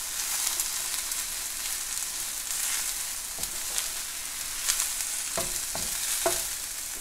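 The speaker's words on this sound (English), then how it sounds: "Our oil is hot, so we're going to go in with about 2 cups of sliced baby portobello." Sliced baby portobello mushrooms sautéing in hot oil give a steady close sizzle, broken near the end by a few sharp stirring scrapes of a utensil in the pan; no one speaks.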